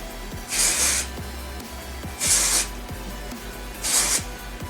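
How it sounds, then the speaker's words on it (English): Dry shampoo sprayed into hair in three short aerosol bursts, each a close, loud airy hiss lasting about half a second, with quiet gaps between and no talk. "use some dry shampoo and get that all well saturated in there"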